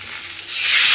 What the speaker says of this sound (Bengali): এবারে আমি এর মধ্যে দেব জল।